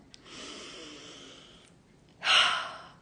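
A soft breathy stretch of air is followed by one sharp, deeper inhale that swells and fades. The breathing is close and steady, with no talking over it.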